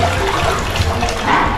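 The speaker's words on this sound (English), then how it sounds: "Water running." Water runs steadily and loudly from a tap or toilet in a bathroom setting, a continuous broadband rush with no speech over it.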